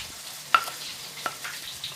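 Ground spice paste fries in a small amount of oil, giving a soft continuous sizzle with a few sharp crackles and spatters, close and quiet with no talking.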